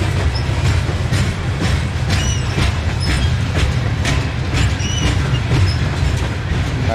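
Long, heavy coal freight train passing on the track: a loud, continuous rumble of rolling wagons with rhythmic clicking of wheels over rail joints and faint metallic squeals, heard close and steady throughout.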